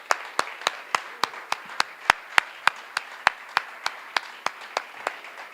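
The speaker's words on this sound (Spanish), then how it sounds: "para quien también pido un cálido y caluroso aplauso" Slow, evenly spaced claps ring out one by one in a quiet lecture hall during a conference, more like a steady rhythmic handclap than a full burst of applause.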